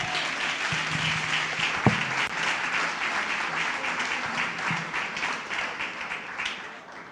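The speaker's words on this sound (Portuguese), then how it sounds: "Pode aplaudir," A church congregation applauds during an anniversary service, broad sustained clapping filling the space with a few louder individual claps standing out, fading slightly toward the end.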